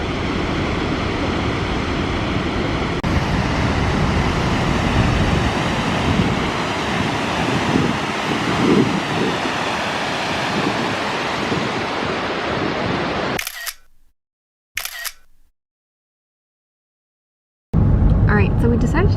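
A powerful Icelandic waterfall that splits into several falls roars as a steady, loud broadband rush with wind buffeting the microphone, then cuts abruptly to brief silences and bursts.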